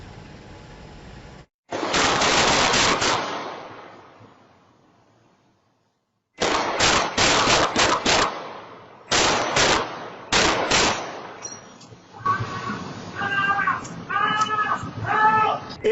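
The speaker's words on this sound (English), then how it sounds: "It was a lot of gunfire." Security camera recording of bursts of rapid gunfire cracking out in loud volleys separated by brief silences, followed by continued shots with shouting voices and cries for help mixed in.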